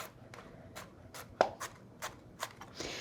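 A knife chops and dices garlic cloves on a cutting board, giving a series of soft, quiet, irregularly spaced taps with one sharper knock, heard close and on their own.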